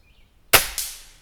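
A .22 air rifle, the Gamo Swarm DX, fires a single sharp crack, and a bright metallic clang follows a quarter second later as the pellet strikes a metal rabbit target about 32 yards away. No one speaks.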